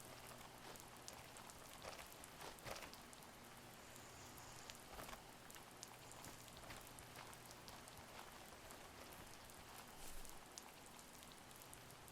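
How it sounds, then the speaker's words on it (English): Rain falls softly and steadily in The First Tree, a quiet, even patter and hiss with scattered droplet ticks, continuous throughout with no voices. "I like this rain sound."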